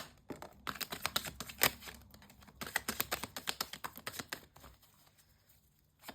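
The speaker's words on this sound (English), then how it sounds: "One more shuffle." A deck of cards being shuffled, a riffle of quick papery flutters in two close bursts followed by softer taps, heard alone and nearby.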